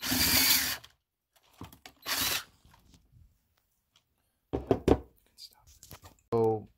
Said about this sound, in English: put some pressure towards the right side where I'm drilling right now